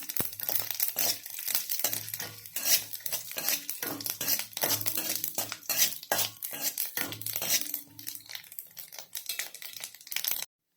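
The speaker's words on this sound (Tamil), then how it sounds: "அது எண்ணெய் காஞ்ச உடனே கடுகு, உளுத்தம்பருப்பு, காஞ்ச மிளகாய் போட்டுடலாம். அது நல்லா பொரிஞ்ச உடனே" Mustard seeds, urad dal and dried chillies crackling in hot oil in a pan, a dense run of sharp pops and spits with some scraping and clinks, fairly close, alone until it cuts off near the end.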